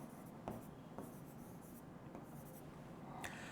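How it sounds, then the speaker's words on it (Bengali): Handwriting during a Bengali class lesson for job candidates, faint scratchy strokes with a few sharper taps of pen or chalk, quiet and close with no talk. "একটু লিখে দেই"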